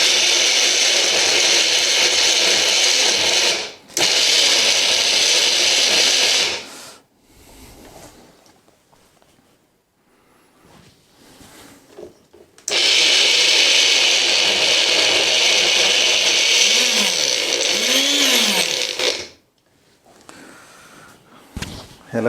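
A mixer grinder pulsing dry fruits in two long loud whirring bursts separated by quieter pauses, the motor winding down with a falling whine at the end of each run.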